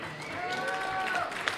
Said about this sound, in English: let's have a big round of applause for second place finishers, Iveta Moore and Isabel Stelly